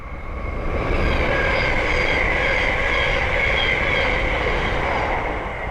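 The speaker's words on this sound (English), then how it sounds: "Working a Thameslink service from Luton to Sutton." Thameslink passenger train on a main line, a loud, close, continuous rumble and rush of wheels on rails with a high metallic ring, sustained for several seconds as it passes.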